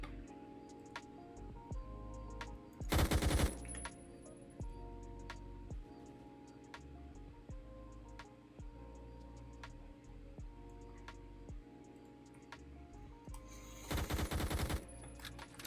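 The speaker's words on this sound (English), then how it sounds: "I feel like my gunfire is too loud in this game." Two short bursts of rapid Roblox gunfire crackle loudly over a quiet backdrop of ticking and faint electronic tones.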